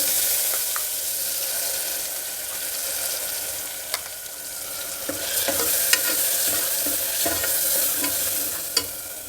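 Ground spice paste is added to a sizzling pan of onion and garlic for a roasted horse gram and pepper rasam, with a steady loud sizzle and occasional sharp clinks of stirring, no voices.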